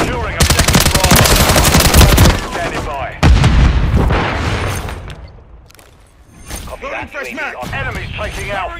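A grenade bursts during a Call of Duty MW3 Domination match amid dense, close machine-gun fire, with a heavy booming blast standing out among rapid rattling shots while voices call out over the din.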